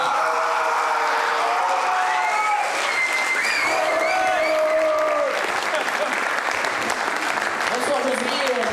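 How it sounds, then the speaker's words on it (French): A festival audience applauds a filmmaker being introduced at a screening, steady dense clapping filling the whole stretch with scattered cheers and whoops rising above the crowd. "Je vous demande d'acclamer Josué Mendoza."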